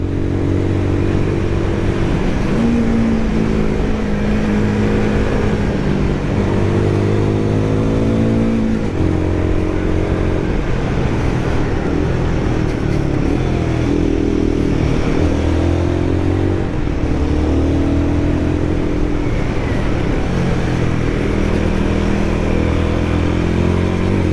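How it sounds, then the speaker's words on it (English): A Royal Enfield Guerrilla 450 motorcycle accelerates hard along a mountain road, its engine note climbing through repeated gear pulls with steady wind rush, loud and continuous throughout with no talking. "The bike responds instantly to your throttle inputs."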